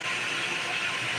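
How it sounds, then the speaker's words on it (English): Water gushes steadily from a leaking seam, a continuous hiss and splatter held at even loudness, close by, with no talk. "you can tell how much water is coming out right there"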